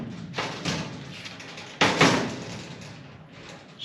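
A sliding cabinet door being opened and shut with a couple of soft thuds and a brief scraping slide, catching slightly as it moves, close and fairly quiet.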